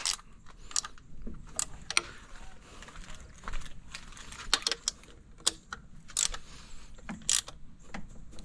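A ratchet snugs bolts into cast aluminum on a Suzuki outboard, with short clicking strokes and scattered metallic ticks, close but fairly quiet, no speech.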